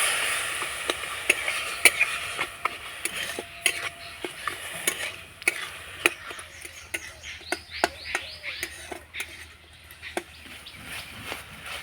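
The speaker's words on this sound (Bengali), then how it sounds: "এবার নাড়াচাড়া করে আমি পুরটা তৈরি করে নেবো" Jaggery and water filling for pitha stirred in a pan, with soft scraping and tapping strokes at an irregular rhythm over a faint background hiss.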